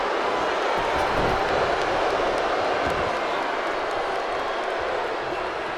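Arena crowd in the WWE 2K19 wrestling video game roars in a dense, sustained wash of cheering and murmur, loud and unbroken throughout, with no clear voices standing out.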